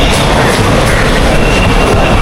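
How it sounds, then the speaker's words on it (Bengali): The Silk City Express pulls out of the station with a loud, close, continuous rumble and roar that stays strong throughout the short stretch, and no voices are heard. "এর মধ্যে ট্রেন ছেড়ে দিচ্ছে"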